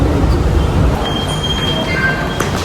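Loud, steady rumble of a moving train carriage on a rail ride, continuous and close, with a few thin metallic squeals from the wheels riding over the roar.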